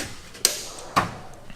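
A Snap-on toolbox drawer opens with two sharp metallic clacks about half a second apart, close and moderately loud in a quiet workshop, with no talk.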